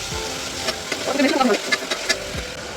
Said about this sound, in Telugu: టమాటోస్ ఇంకా పుదీనా కూడా యాడ్ చేస్తున్నాను అనమాట.